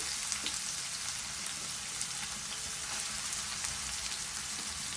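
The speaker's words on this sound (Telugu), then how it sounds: "ఇప్పుడు ఇందులో కట్ చేసి పెట్టుకున్న పచ్చిమిర్చి ఆనియన్ వేసుకొని వేయించుకోవాలి" Green chillies and chopped onion fry in a pan for a mushroom curry, making a soft, even hiss that runs steadily throughout with faint crackles and no voices.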